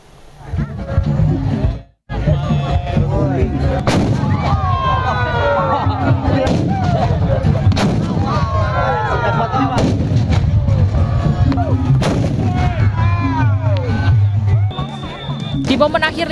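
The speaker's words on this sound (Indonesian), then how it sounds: "memeriahkan tradisi adu meriam raksasa atau kulwung di momen akhir libur lebaran" Giant traditional bamboo cannons (kuluwung) fire repeatedly in a Bogor village contest at the end of the Lebaran holiday, deep booming blasts heard near and loud over a cheering, shouting crowd, with voices throughout.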